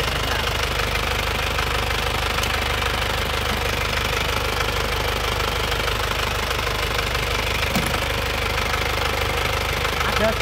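Isuzu Panther diesel engine with an abnormal knock, running continuously with a dense, steady rattling clatter throughout.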